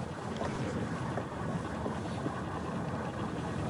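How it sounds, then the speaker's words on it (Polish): Wind gusting and buffeting outside a car on a drive through Monument Valley in Navajo territory, Utah, a steady loud broadband roar that runs continuously with no voices. "na zewnątrz wiatr dmie"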